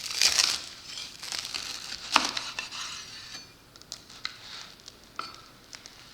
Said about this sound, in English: I'm going to cut into this Brie and Pear grilled cheese.